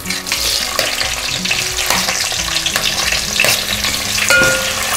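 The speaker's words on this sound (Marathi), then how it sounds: "आपण घालूया कांदे" Onions sautéing with whole spices in hot oil for restaurant-style veg pulao, a loud close sizzle with repeated spatula scrapes and clinks against the pan as they are stirred steadily, no speech.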